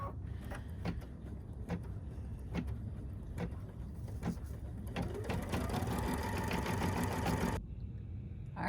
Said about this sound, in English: go ahead and run the last steps of the design on your machine